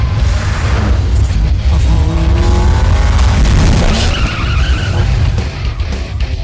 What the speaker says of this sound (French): C'était quoi cette voiture si rapide?